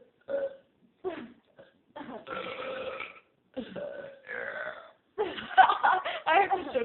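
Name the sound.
people burping in a burping contest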